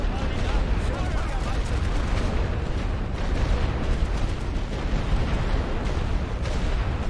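Dense WWI artillery fire in The Great War: Western Front rumbles continuously, overlapping booms and crackling blasts forming a loud, unbroken barrage of battlefield noise with a voice talking over it.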